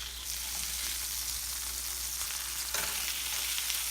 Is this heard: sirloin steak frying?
yes